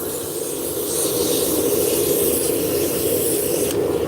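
A turned wood piece is sanded on a spinning lathe, first with medium grit and then fine grit, giving a steady, loud, continuous abrasive hiss with no talking.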